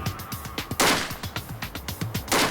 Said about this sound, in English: begins unloading rapid fire